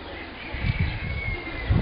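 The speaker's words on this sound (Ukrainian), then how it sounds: "Тут є дуже багато голубів" Low, throaty pigeon cooing rolls in a few soft pulses, close by, against a muffled background hum at a rural horse farm.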